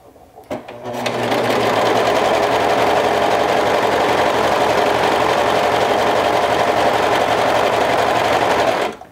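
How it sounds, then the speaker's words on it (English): Serger sewing machine running at steady high speed while stitching fabric, a loud continuous close whirring drone that starts after a brief click and runs unbroken for about eight seconds before stopping. "So that's how I change my thread on my serger."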